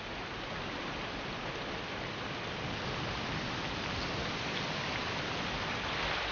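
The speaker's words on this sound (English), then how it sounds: "this storm is only the first of a whole string of others, rolling over the Hebrides, full of rain" Steady, heavy storm rain over the Hebrides hisses without pause, a dense wash of falling water that stays even throughout with no voices.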